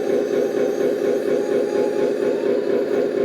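Steady, loud motor whine from an RC 8x8 roll-on/roll-off hydraulic dumper truck as its bed is lowered, running continuously without a break.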